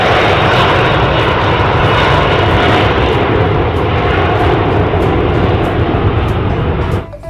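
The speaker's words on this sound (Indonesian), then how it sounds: "kalau ini pesawat terbang" A loud, steady airplane engine roars close by without a break, a dense droning rumble that cuts off suddenly at the very end.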